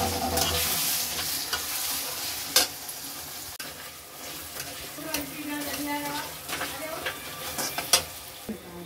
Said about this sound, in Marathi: आता ह्याच्यामध्ये टोमॅटो टाकले।